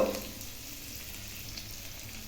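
Finely chopped shallots frying in oil give a soft, even sizzle, briefly stronger at the start and then settling into a quiet steady crackle.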